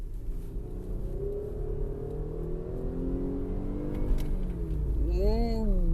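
A Jeep Grand Cherokee drives on a straight road and accelerates, its engine note climbing through the gears under a steady low road rumble, heard from inside the cabin, with a short rising whine near the end.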